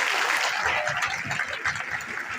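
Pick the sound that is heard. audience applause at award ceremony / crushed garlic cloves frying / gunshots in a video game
audience applause at award ceremony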